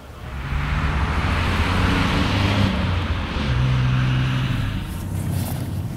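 A 2019 Ford Focus Estate with a 1.5-litre EcoBoost turbo petrol engine driving on the road, a steady loud interior drone of engine hum and road noise with small rises in engine pitch, no speech.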